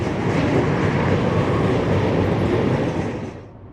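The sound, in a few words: CSX freight train crossing Blackwater Creek bridge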